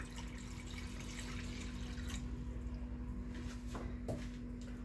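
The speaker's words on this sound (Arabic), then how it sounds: "غادي ندير نص ايطرو ديال الماء او 500 ملي ديال الماء عادي من الروبين" About half a litre of tap water is poured in a soft, steady stream, low and close, with a couple of faint clinks near the end.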